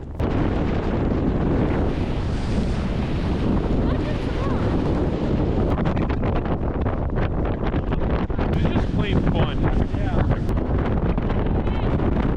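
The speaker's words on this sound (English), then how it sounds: "the wind was really picking up" Strong wind at a ski summit in New Zealand roars and buffets the microphone in a continuous, loud, rumbling gust for the whole stretch, with no clear talk over it.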